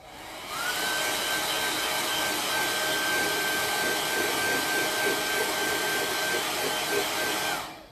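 A hair dryer blows steadily on an acetate stencil in a craft studio, a loud constant whoosh with a high whine that starts, holds for about seven seconds, then cuts off.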